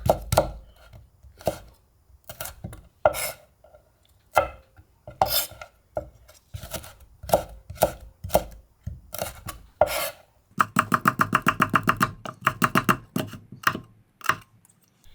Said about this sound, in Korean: 그런 다음에 반을 잘라서 얇게 채를 썰어주세요